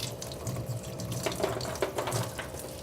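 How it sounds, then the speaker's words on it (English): Tap water runs steadily into a sink while an avocado is washed under the stream, a continuous close splashing rush with no voices. "Even fruits and vegetables that you're going to peel, you want to wash first, such as an avocado"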